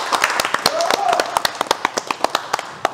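A small group claps in celebration at a birthday gathering, with a quick run of close, sharp hand claps that thins into scattered single claps while people talk.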